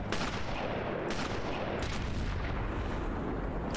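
Gunfire in the video game Sniper Elite, a dense, loud barrage of shots and booms running continuously throughout with no pause.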